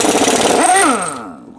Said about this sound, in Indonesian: Ini air impact, jadi kita uji kompresor yang besar ini.